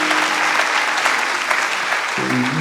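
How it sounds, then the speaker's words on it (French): Dense, steady applause from an audience at a symphonic music show, sustained for the whole stretch, with a brief tonal sound entering near the end. "Applaudissements, je vous prie"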